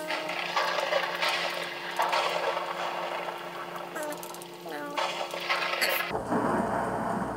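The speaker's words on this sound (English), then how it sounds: "the weather to be thunderstorm" A Minecraft thunderstorm rumbles with steady rain and rolling thunder, joined by clicking, ratcheting game sounds, before cutting abruptly to a quieter tone near the end.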